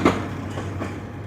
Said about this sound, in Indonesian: Anjir, tiba-tiba diklakson sama kereta. Metrolink.